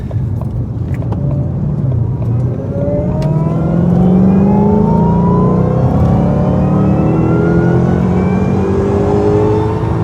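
A Shelby GT500's engine heard from inside during a ride-along, loud and close, with the note rising steadily as the car accelerates through gears, carrying a whining pitch over a deep rumble.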